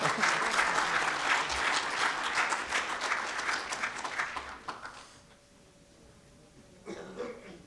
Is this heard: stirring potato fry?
no